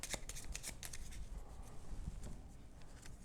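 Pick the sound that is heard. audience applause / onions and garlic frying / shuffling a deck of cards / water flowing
shuffling a deck of cards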